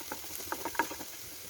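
Chopped onions sautéing in a hot pan while being stirred for a beef ada filling: soft, faint sizzling with light scraping taps from the spoon at an uneven rhythm, close up and without talk.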